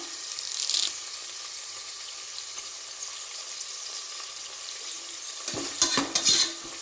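Curry leaves hit hot oil for a homemade biryani, giving a steady broad sizzle with clinking stirring and a louder burst of crackling and scraping near the end, with no voices.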